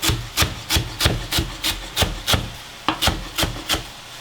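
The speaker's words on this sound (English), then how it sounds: "I'm gonna chop some cilantro" Cilantro being chopped with a knife on a cutting board for pork and cabbage egg roll filling: a steady run of about a dozen crisp, evenly spaced knocks, close and clear with no talking.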